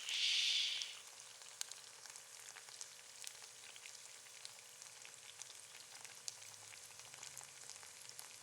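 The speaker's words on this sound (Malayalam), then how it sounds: "അങ്ങനെ കുറച്ച് ചിക്കനെ ഞാൻ പൊരിക്കണുള്ളൂ" Chicken pieces fry in hot oil in a pan, giving a faint, continuous crackling sizzle with scattered sharp pops after a brief louder hiss at the start.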